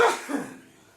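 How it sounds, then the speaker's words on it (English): A single sharp sneeze from an adult indoors, a loud burst at the start that trails off into a short breathy tail, close to the listener with no talking. "I'm about to sneeze."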